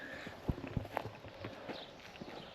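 Hooves of a herd of wild goats sheltering in an abandoned building on a deserted Gulf War island in Kuwait, heard as scattered, irregular clopping and shuffling steps on a hard floor, fairly close and fairly faint.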